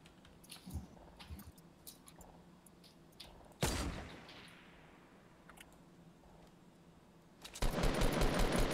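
Gunfire in a Fortnite Battle Royale match: scattered single shots and a sharp blast, then a dense burst of rapid fire at the end, loud and close with background game noise.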